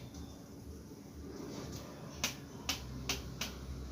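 A taut 1-2-3 manjha kite string is plucked four times, giving short sharp snapping twangs spaced about half a second apart over a faint background hiss, close and quiet.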